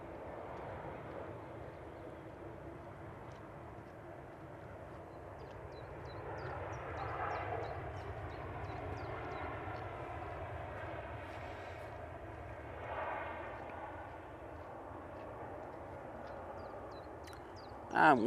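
A Boeing 787-9 Dreamliner jet at Manchester Airport, a distant, steady engine roar and rumble that swells slightly midway, heard from afar in open air with faint background noise.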